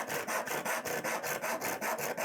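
A hand saw cuts through material for a homemade Disney princess tiara, with about ten quick, even back-and-forth rasping strokes, loud and close.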